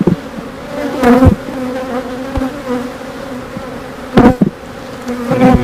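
Honey bees from an overwintered colony buzz around an open hive frame in a close, continuous drone, broken by a few sharp knocks on the wooden hive.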